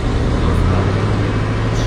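A car engine in the video game Ice Scream 1: a steady, loud low rumble with a constant droning hum, close by and unbroken through the short moment.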